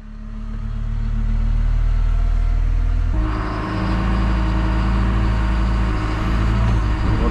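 A warmed-up excavator engine running at an auction yard: a loud, continuous diesel rumble that steps up sharply in intensity partway through and then holds steady, with no voices.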